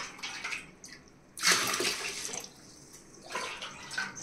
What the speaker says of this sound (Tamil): இது கொஞ்சம் தாராளமாகவே தண்ணி ஊற்றிக்கலாம்